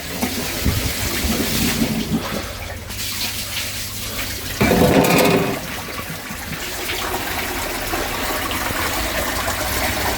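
Water gushes up through a newly unblocked drain, a loud rushing surge that swells into a strong burst midway before settling back into a continuous splashing flow.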